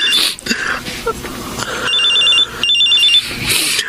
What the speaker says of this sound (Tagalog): tumatawag sa cellphone ko